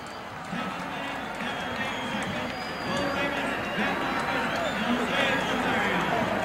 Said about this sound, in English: The crowd is in an uproar. An uproar. People are jumping and screaming and yelling and hollering.